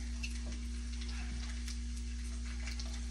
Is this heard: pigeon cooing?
no